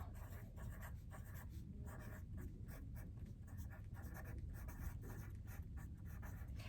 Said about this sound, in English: drawing a line so that we have room for our activity tomorrow